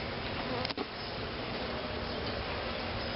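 Honey bees buzzing steadily in an open swarm hive, a dense continuous drone close up that fills the whole stretch, with a brief knock partway through.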